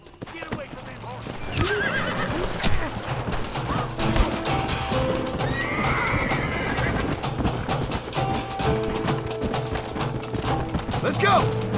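Horses neigh and whinny amid clip-clopping hooves in the Red Dead Redemption video game, with birds, scattered thuds and a voice mixed in over a steady western backdrop.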